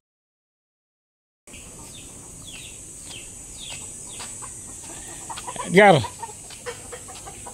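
Farm chickens cluck while pecking at pounded rice, a short loud burst of squawking clucks near the end over quiet outdoor background after a silent opening, with a voice briefly speaking.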